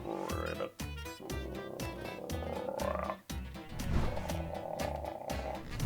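A human voice imitates a frog, making rhythmic croaking noises in quick repeated pulses with short pauses, close and fairly quiet.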